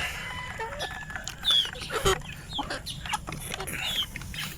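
Heritage chickens on a free range, with several soft clucks and short squawks scattered over a quiet outdoor background, fairly close and moderate in volume.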